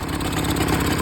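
A Honda outboard motor idles steadily after starting, a loud continuous rumbling drone with a rapid regular beat, close by and alone.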